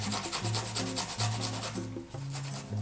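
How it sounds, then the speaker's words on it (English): Fresh ginger being grated for its juice while preparing Korean bulgogi marinade: a steady run of close, raspy rubbing strokes in a regular rhythm, heard over soft background music with no talk. "Now we grate the ginger and get the juice."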